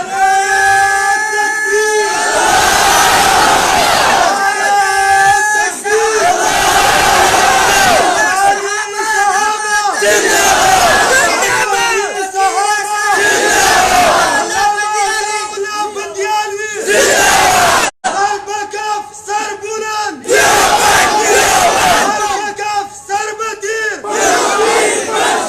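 A crowd chanting slogans inside a mosque during a Quran lesson, loud rhythmic massed voices rising in repeated bursts with brief pauses between calls, filling the hall for about twenty-five seconds.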